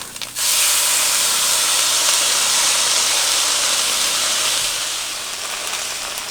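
Pasta sauce seasoned with salt and pepper bursts into a loud, close hiss in a hot pan for baked spaghetti, holding steady before easing slightly near the end, with no voices.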